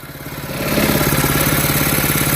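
A vehicle engine labors and strains on a burned, worn clutch, rising into a loud, steady throbbing drone with a rapid pulsing rhythm close by.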